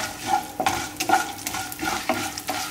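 Chana and urad dal with mustard seeds sautéing in hot oil, a close crackling sizzle broken by repeated scraping stirs of a spoon against the pan at an uneven rhythm, with no talking.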